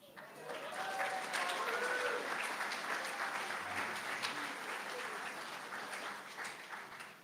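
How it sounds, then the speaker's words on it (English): An event audience applauds a $25,000 donation with sustained, even clapping from many people that swells quickly and holds for several seconds, with faint voices in the crowd. "saved the applause for the amount"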